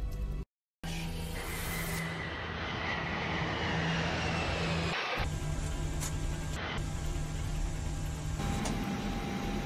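An airliner taxiing down the runway, a steady loud roar of jet engines with a constant whine, heard continuously from close by, briefly cut out near the start and shifting slightly in tone midway.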